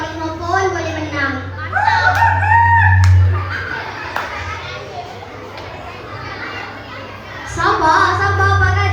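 At a Year 4 camp cultural night stage play, a voice imitates a rooster crowing in two rising, drawn-out calls. Children's voices and crowd noise continue underneath over a steady electrical hum.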